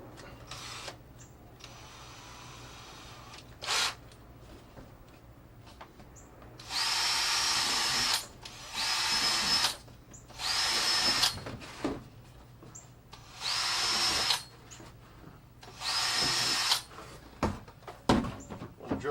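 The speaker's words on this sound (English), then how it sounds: "Drill some in the bottom as well." A power drill bores holes in a plastic worm bin in a series of whining bursts of a few seconds each, close and clear, with handling clatter between them.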